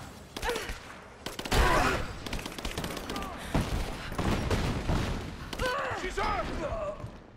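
Bursts of gunfire from a Rise of the Tomb Raider firefight ring out in uneven volleys, sharp cracks stacking over one another with shouted voices breaking through between shots.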